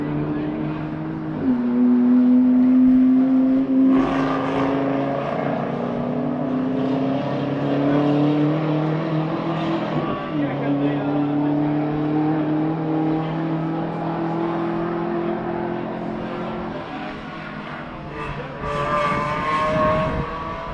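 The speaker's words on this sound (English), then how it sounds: "BMW safely through the last corner." A BMW race car powers through the final corner of a track-day run, its engine droning loudly with steady rising and falling pitch, joined by another car's engine partway through, under continuous commentary.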